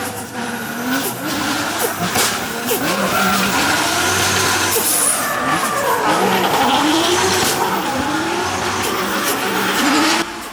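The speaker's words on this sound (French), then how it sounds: "On a mis la wastegate dans l'échappement." Close, loud BMW M2 drift car with a wastegate venting into the exhaust, engine revving hard and fluctuating while tires squeal and skid throughout, with no talking.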